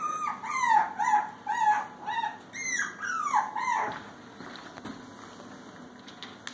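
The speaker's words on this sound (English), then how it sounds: "He is a purebred Bichon. He is 5 weeks old." A five-week-old purebred Bichon puppy whimpers in a run of high, thin whines and yips, several close cries in a row and then fading to quiet, with no talking.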